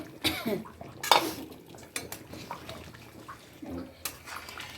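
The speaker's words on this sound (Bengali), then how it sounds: "টকবক করে ফুটছে, ডিম দিয়ে দেব।" Egg curry broth on the stove at a rolling boil before eggs go in, heard as soft bubbling with a few sharp clinks of utensils against the pot, close and fairly quiet with no talking.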